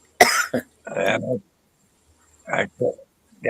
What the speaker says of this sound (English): that cough sounds bad news